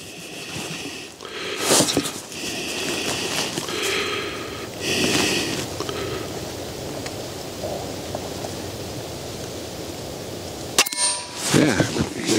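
Airgun shots fired through a scope, heard as a few sharp cracks spaced over the stretch amid outdoor background noise, with a quieter pause before a final cluster of reports.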